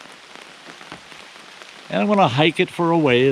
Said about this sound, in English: it's raining. The minute I decide to go on a hike, it starts to rain.